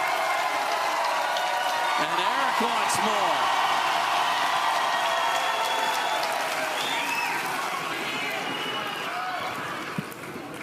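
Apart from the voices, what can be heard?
crowd oohing and applauding at a pickleball match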